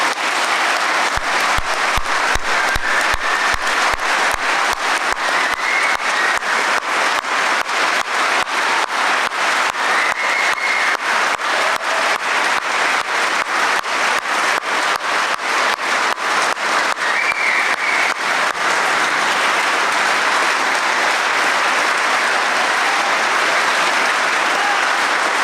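A large crowd applauds long and steadily at a celebration of Kintoa Basque pork earning its AOC, with whistles cutting through the sustained clapping.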